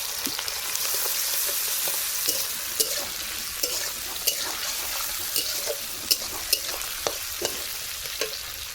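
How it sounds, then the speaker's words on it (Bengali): Chopped onions fry and sizzle steadily in a pan while a spoon stirs them, with sharp scraping clicks recurring every half second or so, close and continuous, with no talking. "আগে পেঁয়াজটা ভালো করে ভাজা করে নিই"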